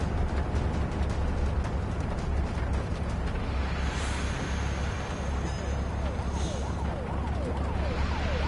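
An ambulance siren wails in a video game, its rising and falling pitch sweeps coming through clearly during the second half over a steady low engine rumble and game noise.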